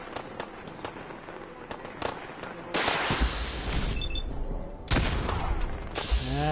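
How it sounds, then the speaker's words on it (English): Missile launcher explosions in the video game Fallout 4 come as loud, sudden blasts that burst in and roll on in long rumbling roars, with scattered gunfire crackle between them and no talk. "Someone has a missile launcher."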